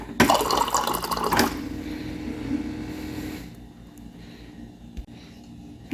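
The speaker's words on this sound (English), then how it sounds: "You can hear it filling back up with water." Water rushes loudly into an Avalon bottom-loading water cooler, model A4BLWTRCLR, for about a second and a half, then fades to a quieter trickle and faint dripping inside the unit.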